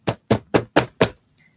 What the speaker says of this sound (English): Hearing their voices, he stops, tries the door, and knocks.